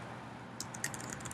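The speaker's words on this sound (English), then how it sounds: "Now we're going to type" Typing on a Mac computer keyboard while entering terminal commands in password recovery, a short run of quick, light key clicks, close and fairly faint over a low background hum.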